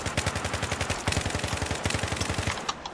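Rapid automatic gunfire in the video game Battlefield 3, a dense fast stream of shots in close quarters, loud and nearly continuous for about three seconds before cutting off.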